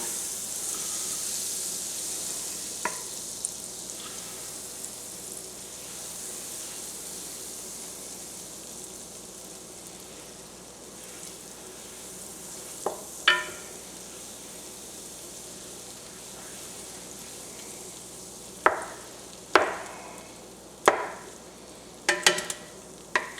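A stick of butter sizzles as it melts in a large pot over medium-high heat, a steady soft hiss with occasional sharp clinks and scrapes of stirring near the end.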